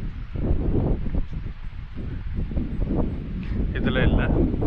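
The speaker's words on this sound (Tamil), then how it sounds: "ஆஹா நல்லா சில்லுன்னா காற்று." Cool wind gusting through a forest on an off-road track, a loud, continuous rush and buffeting against the microphone with rustling, steady throughout.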